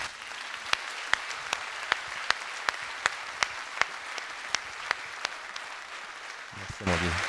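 At a mayor's New Year ceremony in Fourmies with the youth municipal council, sparse, steady clapping comes from a modest audience in a hall. Individual claps are distinct and fairly regular, and a voice starts up at the very end.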